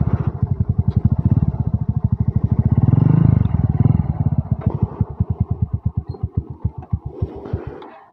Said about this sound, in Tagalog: Ayan guys, ito yung motor.